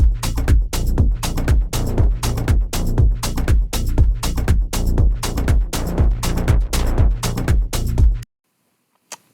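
A short four-bar loop of punchy Loop Cloud drum samples over a synth bass from Pigments, steady driving hits repeating loudly for about eight seconds before cutting off abruptly to near silence.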